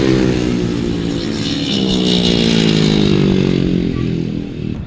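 A grasstrack racing motorcycle at an international solo meeting revs hard and winds up through the gears, a loud, continuous engine roar close by with steady harmonic pitch rising across the whole stretch.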